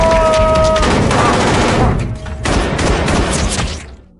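Gunfire from a robber shooting at a door in the 2023 film Black Knight, loud and sustained across the whole stretch with a dense barrage of shots, easing briefly midway before picking up again.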